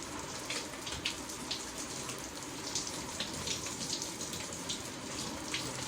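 Shower water running steadily while someone rinses off, a constant close hiss and patter of spray with uneven splashes and no talking.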